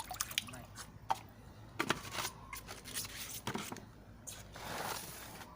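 Liquid fertilizer mixed with rice water being stirred, giving soft, uneven sloshes and wet splashes, quiet and close, with a few sharper drips and clinks along the way.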